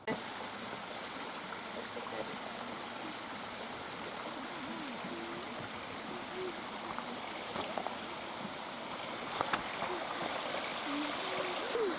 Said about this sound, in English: we can hear water